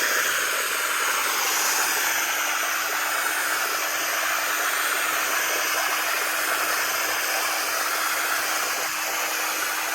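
An upholstery extraction machine works on sofa fabric, its steady, close suction hiss and airy roar running unbroken throughout, with no talk.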